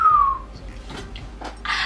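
A person attempts a whistle: one thin tone slides gently downward at the start, then breaks into breathy, airy puffs and hisses that never settle into a clear note.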